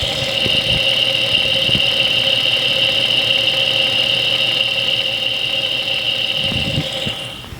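A car engine idles steadily, picked up close to the timing cover where chain noise is suspected: a constant whine with a high squeal on top and faint irregular knocks underneath, no talking.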